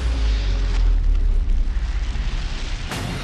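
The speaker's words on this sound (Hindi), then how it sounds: "मिसाइल गिरते ही तेल डेपो में धमाके के साथ आग लग गई।" A missile explosion at an oil depot in Lviv, Ukraine, comes as a heavy booming roar with strong low rumble, followed by rough, pulsing blast noise and a sharp crack near the end.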